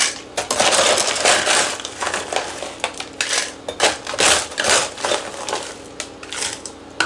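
Ice from a countertop ice maker stirred in a cup, a loud, close run of rattling clinks and crunches in irregular bursts, with no talking.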